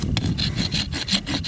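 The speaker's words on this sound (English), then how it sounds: "support the foot with one hand and use the Rasp with the other" A Radius Rasp 2 Pro rasp files a foot in quick, regular rough strokes, each scrape a close, gritty rasp repeating rapidly with no talk.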